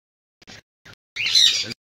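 Cockatiels, including an adult lutino pair, calling in an aviary: a few short chirps followed by a louder, harsher squawk lasting about half a second, close by with no talking.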